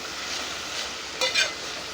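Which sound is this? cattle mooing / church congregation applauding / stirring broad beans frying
stirring broad beans frying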